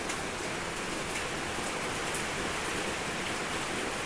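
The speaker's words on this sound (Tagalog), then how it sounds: "Lakas pa ng hangin. Umuulan, bumabagyo" Steady, dense rain hisses continuously throughout a windy storm, a broad wash of drops pattering on surfaces with no voices.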